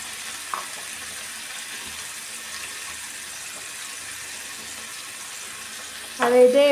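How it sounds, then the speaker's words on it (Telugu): Tomato pieces sizzle steadily in hot oil with cumin seeds, a constant close frying hiss, with a short clatter of stirring near the end. "బాగా ఫ్రై చేసుకోవాలి టమోటాలు"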